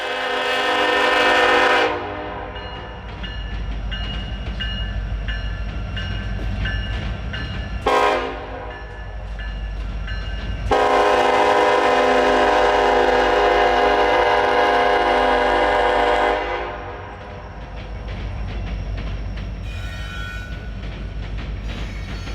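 Two trains rolling across a railroad diamond in Kansas City beside Kansas City Terminal Railroad tracks toward the Highline Bridge, with loud continuous rumble and wheel clatter, a brief horn blast near the start, and the passage swelling louder midway before easing.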